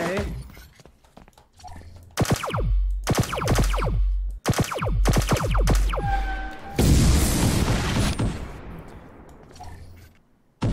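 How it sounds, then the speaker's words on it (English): Explosions and gunfire in the video game Get To The Orange Door: a series of sharp repeated shots gives way to a loud, broad blast that rumbles and fades, with a player talking over the action. "I heard an explosion."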